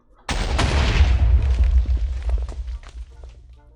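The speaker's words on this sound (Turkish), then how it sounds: "Yalnız çok iyi çalışmıyor bu makine. Gümbür gümbür." A malfunctioning machine in Minecraft gameplay booms and rumbles, starting with a sudden loud burst and then a crackling run of overlapping explosive thuds that slowly fade across several seconds.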